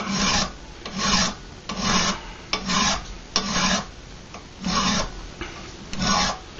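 A hand file rasps across the handle shank of a first forged steel knife, steady back-and-forth strokes in a regular rhythm of about eight close, scratchy passes.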